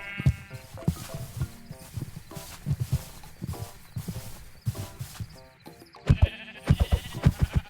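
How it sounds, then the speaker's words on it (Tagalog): Goats bleat repeatedly amid a busy game scene full of other animal calls, with louder, closer bleats toward the end. "Ayun ang mga kambing oh."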